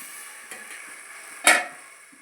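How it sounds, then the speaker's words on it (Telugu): Tamarind juice poured into a tempering of cumin and curry leaves in a hot pan, a faint, quiet sizzle with a brief sharp hiss burst near the end, no voices. "ఇలాగ చింతపండు పులుసు ఉంది కదా, అది మనం తాలింపులో వేసేసుకుందాం."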